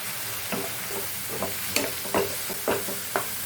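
Spices and chicken frying in a pan, a steady close sizzle broken by repeated scraping stirs of a spoon, with no talk.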